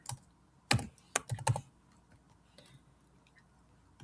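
Quick bursts of typing on a computer keyboard, several sharp clustered clicks early on, then fading to faint scattered taps, close and fairly quiet with no talk.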